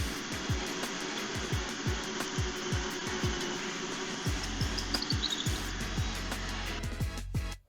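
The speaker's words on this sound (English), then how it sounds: "The pocket hole jig is such a valuable tool for cabinet making and fairly inexpensive." A power drill runs steadily, boring pocket holes through plywood with a pocket hole jig while a cabinet is built. A rapid, repeating whir and rattle continues for several seconds and then cuts off abruptly at the end.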